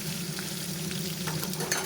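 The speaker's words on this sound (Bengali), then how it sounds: "এই তেলে আবার পনিরটাকে ভেজে নেব একটু" Paneer frying in hot oil, a steady close sizzle running unbroken throughout with a few faint clicks near the end.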